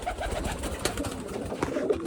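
Domestic pigeons coo close by in a loft, soft repeated throaty calls over a busy background of bird rustling and other faint bird sounds.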